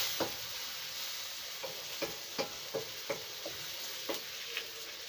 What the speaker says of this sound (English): now I have to put tomatoes.